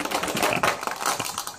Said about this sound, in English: I thought you said it was a light whisking.